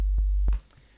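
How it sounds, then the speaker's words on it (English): A low, pure sine tone from the Vital software synthesizer, the starting point for a frenchcore kick drum, hums loudly for about half a second with faint clicks before cutting off abruptly. "begin to make the kick with a simple wave, with a sine wave"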